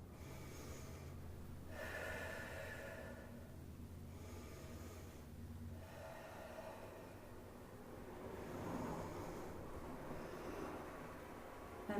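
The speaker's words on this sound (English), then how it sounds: "Then take 3 deep breaths." Three deep breaths, each a slow, close, audible inhale and exhale, spaced evenly across a quiet stretch with a faint background hiss.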